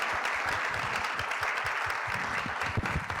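An audience at a climate crisis lecture event applauds steadily, a dense, even wash of many hands clapping at a distance with no voices.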